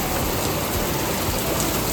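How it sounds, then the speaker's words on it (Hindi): Heavy rain pours steadily and loudly, a dense continuous hiss of drops drumming on surfaces with no voices over it. "बारिश बहुत तेज़ हो रही है"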